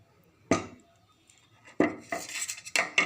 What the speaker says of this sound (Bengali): এখন আমি ছোট ছোট সাইজে পিস করে নেব